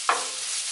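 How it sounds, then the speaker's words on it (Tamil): Shredded cabbage sautéing in a pan for cabbage pepper fried rice gives a short scrape of stirring over a steady, bright sizzle. The sizzle sits close and alone, with no voices. "முட்டைக்கோஸ் எடுத்துட்டு நல்லா வதக்கி விட்டுக்கோங்க."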